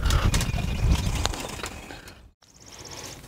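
A socket ratchet loosening the battery hold-down bolt on a 2017 Chevrolet Silverado pickup, a run of close rapid clicking and metallic rattles that trails off, then a short high ticking burst after a brief gap.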